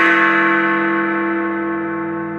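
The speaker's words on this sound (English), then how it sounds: "That was the chime." A single loud bell-like chime rings at the opening of a pub weather report from the Golden Lion in Newmarket, its rich tone sustaining and slowly fading across the whole moment with no voices.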